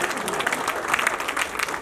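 Audience at a Hindi kavi sammelan poetry gathering breaks into steady, dense applause, a continuous wash of clapping from a large crowd with some faint voices mixed in.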